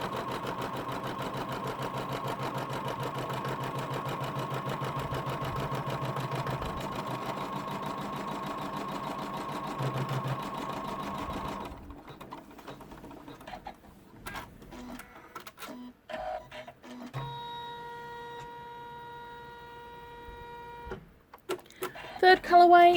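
Embroidery machine stitching the second colourway in the hoop, a steady rapid mechanical whir for about twelve seconds before stopping, followed by soft handling noises and a brief electronic tone.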